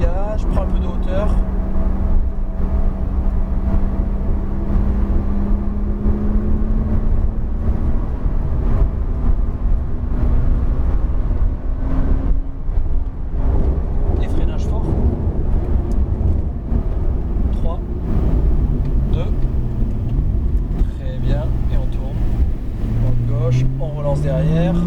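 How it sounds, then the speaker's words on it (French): Porsche 911 Turbo S engine revving and accelerating on a circuit, a steady loud drone with rising and falling pitch as the car pulls through gears, heard close throughout. "Et là, je recommence à mettre des gaz."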